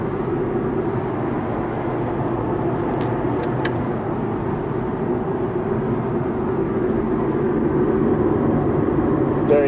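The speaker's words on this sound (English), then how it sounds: "So my feet is off the accelerator. And the car is in cruise control." A 2014 Ford Fiesta Ecoboost cruises on cruise control, giving a steady cabin hum of engine and road noise with tyre roar underneath, constant throughout with a few faint clicks.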